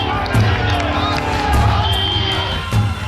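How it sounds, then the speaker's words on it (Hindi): A dense, loud crowd of supporters shouts and chants 'Zindabad' slogans at the jail release of politician Atiq Ahmed in Allahabad, with many overlapping voices swelling in close, rhythmic surges. "जिंदाबाद के ये नारे"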